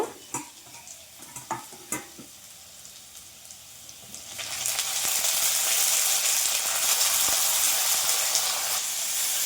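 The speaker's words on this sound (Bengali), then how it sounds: "নেড়ে চেড়ে ভেজে নেব" Malabar spinach seeds stirred in a wok: a few sharp scrapes and knocks of a spatula at first, then a loud, steady frying sizzle swells up and carries on, with occasional stirring clicks over it.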